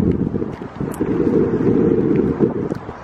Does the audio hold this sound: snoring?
no